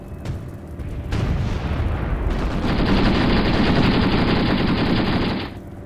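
Sustained automatic gunfire aimed at enemy troops in Graviteam Tactics, a Soviet mechanized guards battle set in Afghanistan in 1980. A loud, dense stream of rapid shots swells and holds for several seconds before cutting off, with no talk over it.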